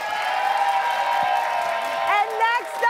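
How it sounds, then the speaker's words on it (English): An audience at a comedy show for teachers claps and cheers for a comedian, steady applause swelling with a few whoops near the end, heard beneath a voice talking over it. "give a big round of applause for the"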